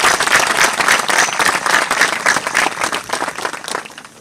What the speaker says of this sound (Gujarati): બધા માટે ફરીથી જોરદાર તાળીઓથી આપણે સ્વાગત કરીએ